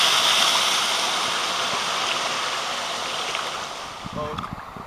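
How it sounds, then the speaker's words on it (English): A waterfall on a lazy river pours in a steady broadband rush, loud at first and easing slightly, with a brief voice near the end. "It's a beautiful waterfall singing to me here on the lazy river."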